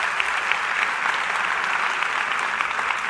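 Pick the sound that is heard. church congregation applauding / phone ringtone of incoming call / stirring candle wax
church congregation applauding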